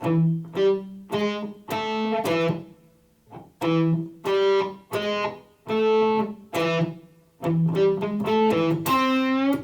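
An electric guitar plays an alternate-picked single-note intro riff with a distorted, effected tone, notes steady and clear, with short gaps between phrases.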